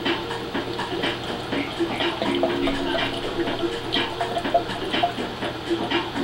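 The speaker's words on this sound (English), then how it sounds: "So all we're going to do is pour the water into the open end of the hoop." Water poured into the open end of a homemade plastic hoop tube, a continuous close gurgling, splashing flow with fluctuating loudness that lasts the whole stretch.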